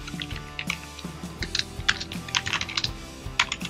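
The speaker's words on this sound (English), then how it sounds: "you want to key in from the keyboard" Typing on a computer keyboard, a fast run of irregular clicky keystrokes close up, steady and uninterrupted, with a faint low background hum underneath.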